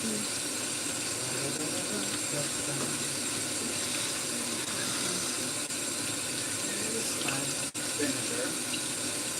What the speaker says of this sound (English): I'm gonna just wash this ham really, really good